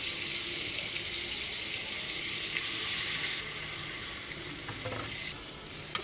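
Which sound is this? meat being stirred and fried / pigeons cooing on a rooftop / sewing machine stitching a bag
meat being stirred and fried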